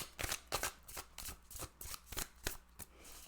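Toadstool Tarot cards are shuffled by hand in quick, rhythmic riffling bursts, close and fairly quiet, with no one speaking.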